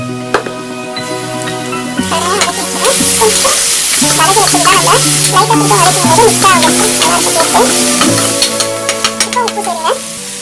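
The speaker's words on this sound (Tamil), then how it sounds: "நம்ம அந்த தக்காளி, காஞ்ச மிளகாய், வெங்காயம், பெருஞ்சீரகம் வதக்கி வச்சது இந்த மாதிரி குறை வதக்கி இதுல ஆட் பண்ணிக்கோங்க" Tomato, dried chilli, onion and fennel sautéing in a pan while cooking a lunch-box dish, with loud continuous sizzling and repeated scraping stirs over background music.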